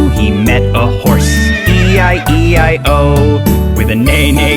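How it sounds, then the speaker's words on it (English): A neighing horse in a children's cartoon farm-song, with whinny sounds over loud, bouncy music, repeated several times in a steady rhythm. "With a neigh-neigh here and a neigh-neigh there."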